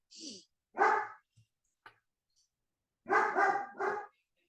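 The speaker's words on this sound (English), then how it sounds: "there goes my dog barking" A dog barks a few times nearby, a single bark followed by a short burst of three, with brief quiet gaps between.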